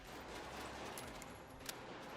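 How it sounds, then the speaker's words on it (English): Distant gunfire in the video game Resident Evil Requiem, a faint continuous crackle of shots under a steady noisy background, with one brief sharper report near the end. "I hear gunfire."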